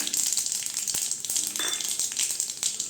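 Dried red chillies sizzle in hot oil while cooking a radish-greens poriyal, a steady close hiss with frequent small pops and crackles throughout.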